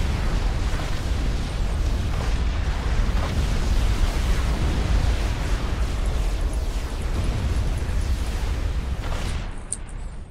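Tactical missile launcher strikes in the Supreme Commander 2 real-time strategy game, a continuous heavy rumble of overlapping explosions and booms that roars loudly throughout before thinning out at the end.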